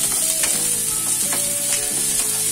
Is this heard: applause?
no